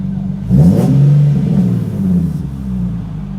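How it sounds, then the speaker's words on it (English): Nissan 370Z engine revving briefly after warming up, a swelling mid-low roar that rises and then settles back toward idle, heard close with no talk. "Just let it warm up a little bit so I can rev it."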